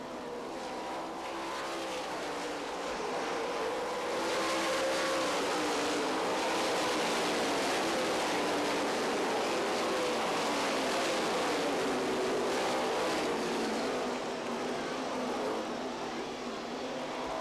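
Sprint cars race on the Knoxville dirt track at the Knoxville Nationals, a loud, sustained roar of many engines that swells as the field passes and stays dense throughout, with no talk.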